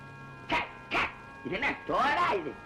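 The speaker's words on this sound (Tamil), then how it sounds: "அதான் நாய் வந்திருக்கு பாரு" A dog barks in a quick series of four sharp, close woofs, the last ones running together in a louder double bark, with brief pauses between.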